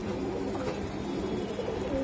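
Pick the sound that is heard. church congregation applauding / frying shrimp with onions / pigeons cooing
pigeons cooing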